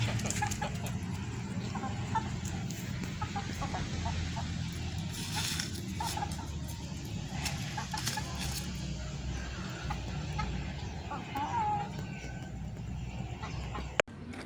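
Chickens cluck softly and intermittently over a steady outdoor background hum on a house's front terrace, with a brief sharp click near the end.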